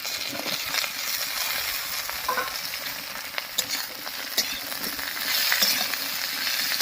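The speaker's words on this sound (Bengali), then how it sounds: "এর উপরেও লবণ হলুদ দিয়ে একটু ভাজা ভাজা করে নেব সবজিগুলোকে" Winter vegetables (cauliflower, flat beans, potato and carrot) fry in a pan with a loud, close sizzle. Irregular stirring scrapes and the odd metallic clink run through it, and no one speaks.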